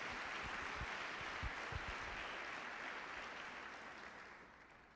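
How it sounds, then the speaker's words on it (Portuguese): A church congregation applauds together, a steady, dense wash of clapping that sounds somewhat distant and fades gradually toward the end. "dá um aplauso ao Senhor Jesus"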